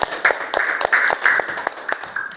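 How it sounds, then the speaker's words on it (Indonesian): A classroom of students claps together, giving a brisk run of sharp, rhythmic hand claps that are close and fairly loud, with a few soft voices mixed in. "Tepuk tangan untuk kita semua."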